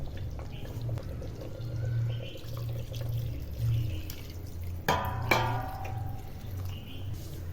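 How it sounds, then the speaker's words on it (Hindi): Water splashes and pours into chicken curry cooking in a pan, a short burst of liquid hitting the thick gravy over a steady low stove hum, fairly close. "अब हम इसको इसके अंदर थोड़ा सा पानी डालेंगे"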